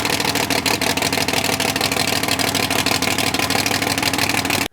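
A freshly rebuilt car engine runs at a steady idle, close and loud, with an even rhythmic chug throughout that cuts off abruptly at the end.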